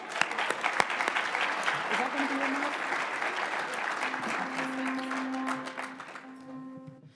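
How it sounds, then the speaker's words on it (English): Audience applause at a teen MLK breakfast event honoring a performer, Tahara Memory: dense, sustained clapping fills the room for several seconds, then thins and fades as a voice speaks over the tail end. "Let's give her a round of applause."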